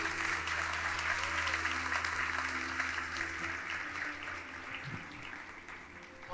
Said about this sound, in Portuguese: Eu queria que vocês aplaudissem ao Senhor pela vida dessas irmãs aqui.